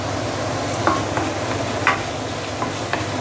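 Okra stir-fried with sambal in a pan, a steady close sizzle with a few sharp spatula scrapes and clicks against the pan, no voices.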